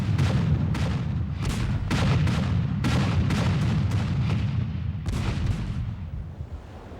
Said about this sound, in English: the lead ships of both squadrons were firing broadsides at almost musket range